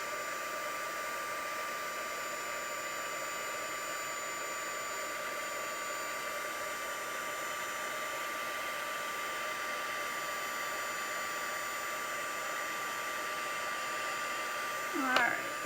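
Heat tool blowing continuously while melting embossing powder, a steady even whirring hiss throughout with a brief faint sound near the end.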